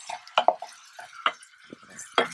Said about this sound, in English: And I mix it and give it a good mix.